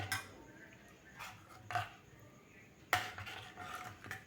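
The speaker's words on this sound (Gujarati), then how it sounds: "પલ્પને દૂધમાં એકદમ સરસ રીતે મિક્સ કરી લઈશું" A spoon scrapes and clinks against a pot while custard apple pulp is stirred into milk for sitafal basundi, with a few sharper taps over a low steady background.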